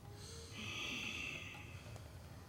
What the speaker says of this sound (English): Keep exhaling.